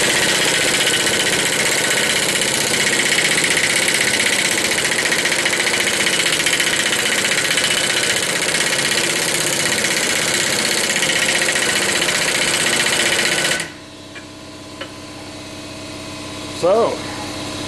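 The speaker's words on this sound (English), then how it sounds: "I'm going to go to 4 on the impact wrench" Loud, steady machine roar from an impact wrench set to 4, its highest power, during a rear wheel bearing install on a 1976 Corvette restomod, running continuously for about thirteen seconds before cutting off abruptly into quieter room noise.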